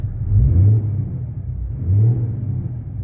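A 6.7 Cummins diesel pickup with a Dynovox 5-inch exhaust, heard from inside the cab, accelerating in two low, droning surges separated by a brief easing off.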